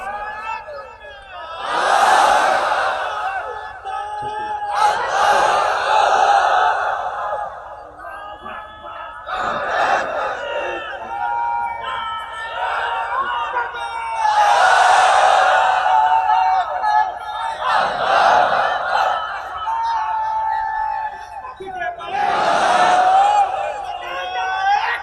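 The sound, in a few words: crowd chanting religious slogans at a sermon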